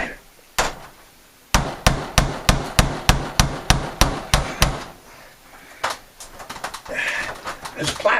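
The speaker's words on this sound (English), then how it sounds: "Now, I gotta hammer a nail in that first." A nail hammered by hand during a garden tub rip-out, one early strike and then a quick, even run of about a dozen sharp blows, close and loud, with lighter taps and bird calls near the end.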